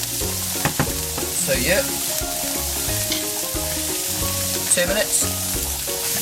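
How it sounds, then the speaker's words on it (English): Leek, onions and carrots sizzle steadily in a hot pan, a constant close frying hiss with occasional stirring scrapes, while music plays and a voice speaks briefly. "So we're going to have a leek in the pan, as well as some onions and carrots"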